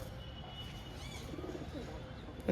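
A male pigeon coos softly in a few low, rolling notes over a quiet background, close but faint, with no speech during the call.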